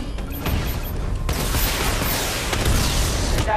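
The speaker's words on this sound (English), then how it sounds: "Missile barrage level 2, ready." Missile barrage strikes in a Batman Arkham Knight combat simulation: a dense, continuous rumble of explosions, with a sharp heavier blast partway through and steady booming after.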